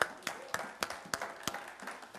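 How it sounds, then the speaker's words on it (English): Church congregation clapping in praise during a sermon: about eight sharp, evenly spaced claps in a steady rhythm, fairly close and moderately loud, with no talking over them. "Give the Lord a big hand clap of praise."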